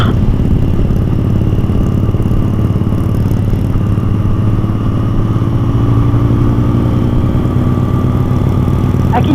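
A motorcycle engine runs steadily through the whole stretch, a continuous low rumbling drone heard up close from a ride through open fields, with no talking over it.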